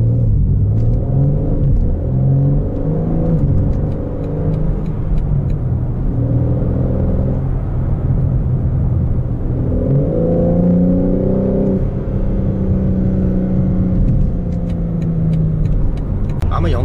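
A BMW M4 convertible's deep, steady exhaust rumble reverberates continuously inside a tunnel, rising and falling in pitch as the car accelerates, loud and enclosed, heard through the soft top.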